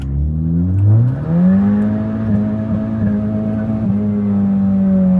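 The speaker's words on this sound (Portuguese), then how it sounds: "vamos dar uma arrancadinha aqui para ver se ele lixa de primeira" A Chevrolet Cruze Turbo with Stage 2 tuning revs hard and pulls away from a standstill, the steady harmonic drone rising in pitch through a gear change, loud and close throughout.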